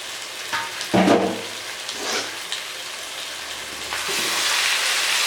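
Large chicken pieces for chicken roast biryani fry in a pan with a steady crackling sizzle, broken by a few soft stirring scrapes and bumps, growing slightly louder toward the end.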